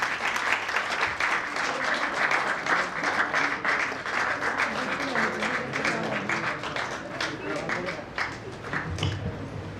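An audience at a Vedic recitation gathering applauds with steady, dense clapping that continues evenly for about ten seconds, fairly loud and close.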